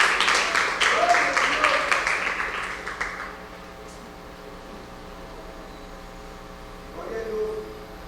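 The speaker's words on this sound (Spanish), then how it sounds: "dele palmas fuertes al Rey de Reyes y Señor" A church congregation claps at a Spanish-language service, a dense burst of applause that fades out after about three seconds, leaving a low electrical hum, with a brief voice near the end.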